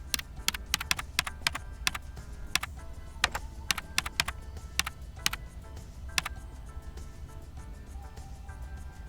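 Steady typing on a computer keyboard while entering text in a text editor, a close run of crisp, irregular key clicks with brief pauses and no talking.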